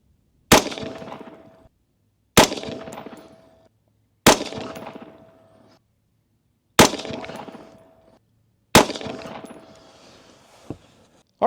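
Five sharp, loud shots from a COX Arms Guardian rifle firing 55 grain plinking rounds at a range, evenly spaced about two seconds apart, each cracking and then ringing out into a decaying echo.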